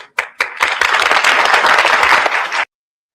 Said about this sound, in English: He got the audience to clap